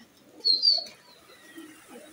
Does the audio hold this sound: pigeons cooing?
yes